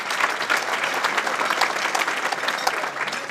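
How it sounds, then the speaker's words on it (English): Applause from a crowd at a Rotary Foundation dinner, a steady wash of clapping hands that fills the room evenly from start to finish. "a round of applause for Terry Fish"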